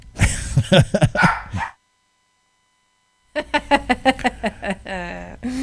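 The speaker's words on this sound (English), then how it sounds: "Studio dogs. This segment brought to you by our puppies." Several dogs bark in a studio setting, a burst of barks and yips up front, then a pause of near silence, then another run of rhythmic barking that ends in a higher whining tone, close and loud.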